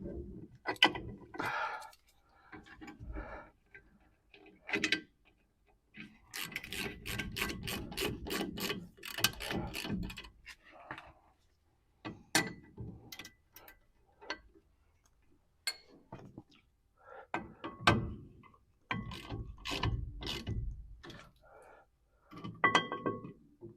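A hand ratchet snugging down bolts, bursts of rapid clicking separated by pauses, close and fairly quiet, with no voices.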